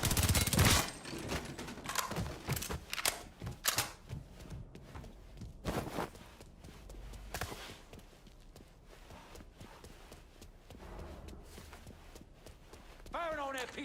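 Gunfire rings out in the Mafia 3 video game, with bursts of sharp shots and rapid fire, heaviest at the start and scattered later amid footsteps, action noise and in-game voices.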